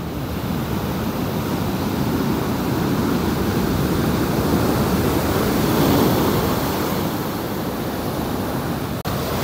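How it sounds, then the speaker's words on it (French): Continuous roar of stormy sea surf washing onto the shore at Pistis beach, Sardinia, a broad steady wash of water with a slight swell in the middle, no voices. "Je vais être bercé par le bruit des vagues ce soir."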